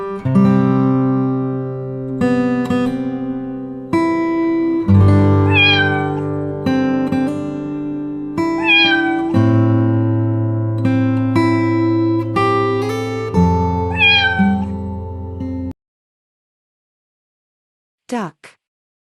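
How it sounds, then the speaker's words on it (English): A domestic cat meows repeatedly in clear, close calls, the series ending about three seconds before the close, after which a faint, brief rising squeal follows. "Cat."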